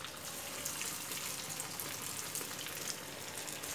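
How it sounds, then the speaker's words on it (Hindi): Potato cheese balls frying in hot oil over low heat give off a steady, even sizzle that runs alone and close for the whole stretch, with no talk over it. "अब हम इसको फ्राई करते हैं। तेल हमारा गरम हो चुका है।"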